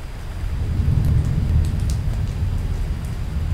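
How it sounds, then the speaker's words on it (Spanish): Steady heavy rain from a game-engine weather effect in Unity, a dense continuous downpour with low rumbling beneath and a few faint scattered drip ticks, with no voices. "El efecto de lluvia no es el mejor sonido que he encontrado"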